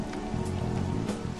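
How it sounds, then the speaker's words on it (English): Rain falling in the video game Persona 5, a steady, dense patter of drops with a low rumbling bed underneath, continuous and moderately quiet with no voices. "This rain ain't too bad."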